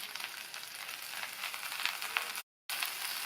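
Fresh mint leaves sautéed in a pan produce a soft, steady sizzle with faint crackles, broken by a brief moment of total silence near the end.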